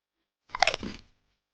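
A chicken pecking and eating grain, a short burst of crunchy pecking and nibbling, quick and close, lasting about half a second with no talking.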